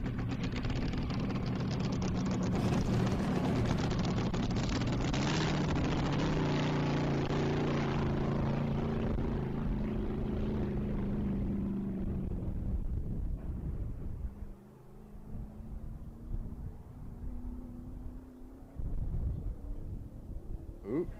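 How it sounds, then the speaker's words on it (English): AA Fuel Lakester race car at the SCTA Bonneville-style course, engine roaring steadily as it runs down the course, a loud sustained drone with wind rush, easing and fading after about twelve seconds into a more distant, uneven rumble. "Ooh, sounds like that engine cleared out. It's rolling."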